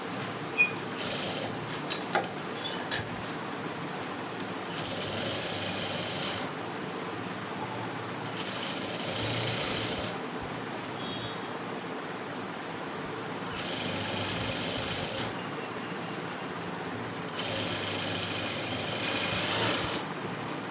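An electric sewing machine stitching the sleeve of an embroidered blouse whirs steadily at close range, with louder bursts of fast stitching every few seconds and brief pauses between runs.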